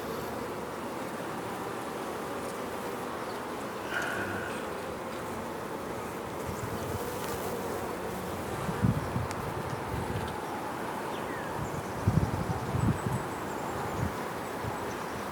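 Bees buzz from an open hive being inspected outdoors, a steady swarm hum close by with a few louder knocks and handling thumps toward the end, no speech.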